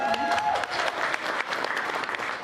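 Audience applause at an annual conference, a dense, steady clapping from a roomful of people lasting a few seconds, fairly loud and close with no voices over it.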